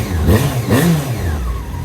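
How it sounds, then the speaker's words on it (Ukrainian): A Yamaha Fazer's four-cylinder motorcycle engine revs up twice in quick succession, loud and close, then settles back to a throaty idle with exhaust rumble. "Оцей звук двигуна чотирьохциліндрового."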